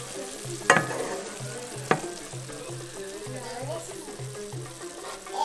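Onion compote simmers and sizzles softly in a pan, a steady low bubbling fry with a couple of sharp utensil knocks and occasional stirring, close by.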